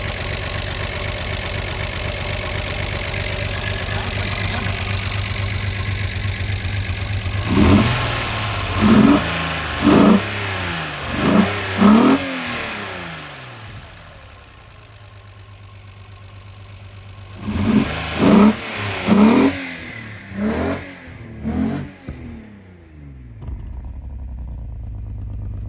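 A Volkswagen Mk3 VR6 12-valve engine idles with a steady, slightly uneven drone, then is blipped in two sets of short, sharp revs, each climbing and dropping quickly, heard up close with no voices.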